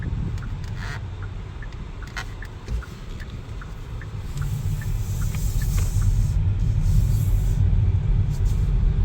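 Steady low road rumble inside a 2024 Hyundai IONIQ 6 electric car on the move, smooth and even with a slight swell toward the end, no voices.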